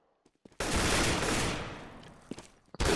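Gunfire from a Counter-Strike match on the de_inferno map, a sudden loud burst of rapid shots that decays over about two seconds, with a few sharp single shots at the end and no voices.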